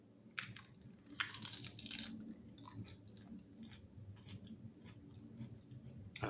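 Close, quiet crunching and chewing on a big chunk of crisp lettuce, with irregular crisp bites and wet munching repeating steadily in an intimate, close-miked setting.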